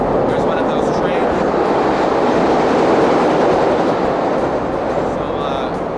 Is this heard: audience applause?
no